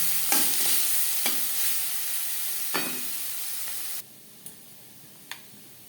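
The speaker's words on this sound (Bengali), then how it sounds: "লবণ হলুদ আলুর সাথে বেশ ভালো করে মিক্স করে দেবো" Potatoes with turmeric and salt stirred in a frying pan: a sizzle runs under several scraping strokes of the spoon, and the sizzle quiets near the end while a couple of sharp taps remain. No one speaks.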